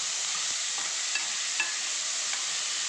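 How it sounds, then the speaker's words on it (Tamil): Tomatoes sauté with mustard seeds in hot coconut oil, a steady close sizzle with a few small pops and light stirring scrapes throughout. "கடுகு வெடித்து போட்டு இதோட தக்காளி போட்டு வணக்கணும்"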